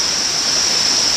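An unpolluted village stream flows steadily beside an old water main, a dense, continuous rushing wash of water that stays close and fairly loud for the whole stretch, with no voices.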